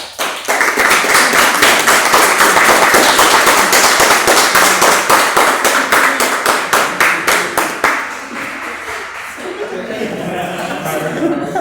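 A class of students claps hard and fast close by for about eight seconds, then the applause thins as voices and chuckles take over.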